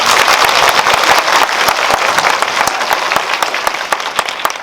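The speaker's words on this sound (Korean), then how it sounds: "큰 박수 부탁드립니다." An audience applauds at a post-screening talk for the Korean courtroom film 'Juror 8' in a Lotte Cinema World Tower theater, dense, loud clapping from many hands that holds on and slowly thins toward the end.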